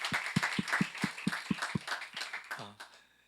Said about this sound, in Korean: 우리 하나님께 감사와 영광의 박수 한번